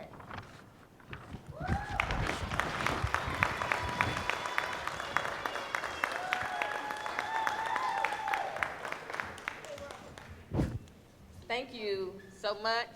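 Applause for a young girl after her speech at a children's presidential speaking event, with scattered sharp claps mixed with voices and cheering, someone speaking briefly over it, and a high, excited voice rising near the end.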